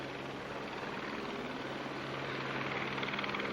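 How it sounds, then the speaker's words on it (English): A US Navy ship-based SH-3 Sea King anti-submarine helicopter flying, heard as a steady, fairly faint roar of rotor and engine that swells slightly toward the end, with no voices. "fought in the air by the Navy's land-based P-3 Orion and ship-based SH-3 Sea King helicopter"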